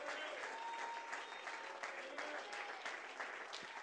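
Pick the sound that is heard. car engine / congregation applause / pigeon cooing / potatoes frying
congregation applause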